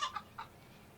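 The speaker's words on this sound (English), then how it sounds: "this chicken is also throughout the game" A chicken in the Hotel Renovator game makes three quick, faint clucks close together, followed by quiet.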